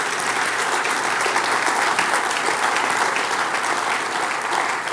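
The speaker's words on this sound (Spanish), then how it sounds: "Dar un aplauso al Señor." A church congregation fills the room with loud, sustained applause during a Spanish-language sermon, an even wash of many hands clapping without pause for the whole five seconds.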